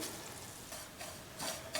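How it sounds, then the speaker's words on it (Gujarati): Poppy seeds and grated coconut roasting in ghee in a pan, a soft steady sizzle with a few louder stirring scrapes near the end, close and alone without voices. "ખસખસને આપણે 15 સેકન્ડ માટે જ આ રીતે શેકી લેવાના છે"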